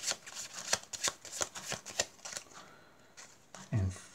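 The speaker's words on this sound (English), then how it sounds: "we'll give the cards a bit of a shuffle" A deck of playing cards is shuffled during a card trick, giving several quick riffling bursts in a row, close and crisp, followed by a short pause and a brief low thump.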